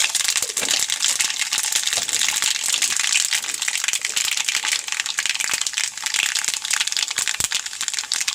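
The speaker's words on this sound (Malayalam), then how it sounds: "കടുക് പൊട്ടുന്നോട് കുരുവല്ലി വീടുന്നു." Mustard seeds splutter in hot oil, producing a dense, loud, continuous crackle of rapid pops right up close, with no talking.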